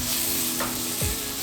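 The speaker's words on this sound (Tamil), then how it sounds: "ஸோ இப்போ நம்ம போட்டிருக்க எல்லா மசாலாவையும் லைட்டாக அந்த இதில் வச்சு நம்ம கிண்டி விட்டுடலாம்" Masala and okra are stirred in a frying pan over a steady sizzle, with a couple of brief scraping strokes of the spoon and no talking.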